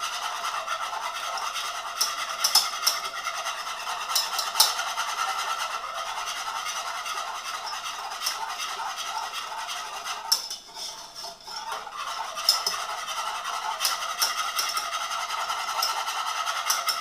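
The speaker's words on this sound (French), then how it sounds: "Le but c'est de le fouetter constamment pour éviter qu'il y ait des créations de grumeaux." A whisk stirs lemon cream constantly in a pan over low heat on the stove, producing a continuous close scraping and metallic swishing with a brief pause midway.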